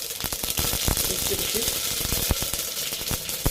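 Steady crackling sizzle of spices tempering in hot oil for rasam, with scattered sharp pops, loud and close throughout.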